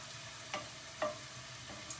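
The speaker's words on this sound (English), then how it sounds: "Yes, I think it's sizzling" A single paneer cube dropped into hot oil in a pan sizzles softly, giving a steady low frying hiss with a few light ticks and pops.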